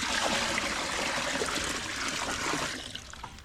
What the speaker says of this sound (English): you simply fill a container halfway with water